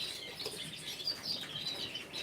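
Small canaries, including an agate canary in moult, chirping in an aviary, a steady chatter of high thin calls and trills that overlaps continuously throughout.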